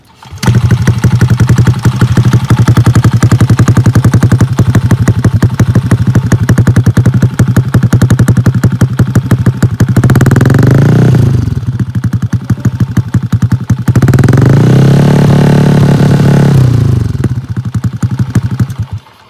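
Yamaha Aerox scooter with a 187cc engine running very loud and close, a rapid rough clattering idle broken by two throaty revs that swell and fall back, no talking.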